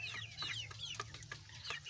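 Koyla chickens, a cross between local desi and broiler fowl, cluck softly in a quiet, close, uneven chatter of short calls, with a faint voice in the background.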